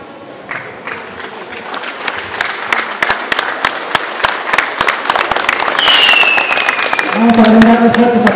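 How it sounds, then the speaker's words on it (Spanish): Crowd claps loudly at a municipal authority handover ceremony in Yosoyúa, Mexico, a steady patter of hands building in intensity, with a whistle or squeal rising near the end and voices mixed in. "Vamos a brindar los fuertes aplausos"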